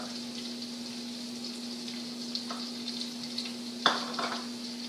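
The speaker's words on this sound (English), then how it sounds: "So while this is sauteing" Seafood stew ingredients sauté in a pan with a steady, soft sizzle beneath a constant hum, broken near the end by a brief clatter and a louder crackle.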